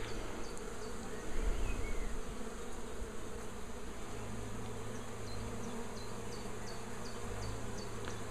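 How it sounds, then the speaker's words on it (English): Honey bees return to a hive after a captured swarm is moved from a basket into the hive. Their buzzing hums steadily and fairly faintly, with individual bees droning past close by. "you can see the bees are coming back to the hive, and they're mostly finding their way straight into the entrance"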